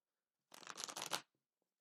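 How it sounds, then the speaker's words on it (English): A deck of cards is shuffled once in a quick riffle, a brief crisp flutter of snapping cards, close and fairly quiet, followed by a couple of soft taps. "shuffling the deck"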